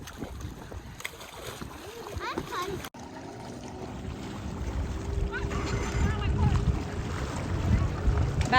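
Small boat with its motor running on a lake, a steady low rumble with wind noise against the microphone and splashing water, voices heard briefly at the start.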